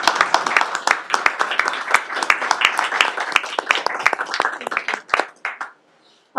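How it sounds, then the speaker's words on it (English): An audience at a school board meeting claps for honored students and cheerleaders, a brisk burst of many hands close by that thins out and stops after about five seconds. "if we could give all of these people a round of applause as well"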